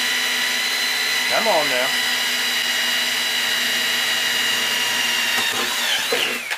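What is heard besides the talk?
hole saw drilling through a metal ammo box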